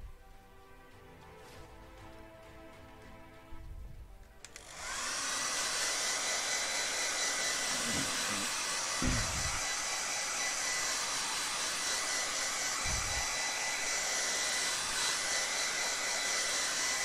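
A hair dryer switches on after a few seconds of quiet and then blows steadily and loudly up close, drying watercolor paint on paper, with a few faint thumps under the constant whoosh.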